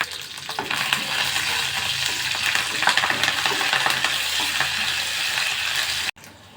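Curry leaves added to hot oil with garlic cloves and dried red chillies, crackling loudly in a steady sizzle with spoon stirring throughout, close and continuous until an abrupt cut near the end.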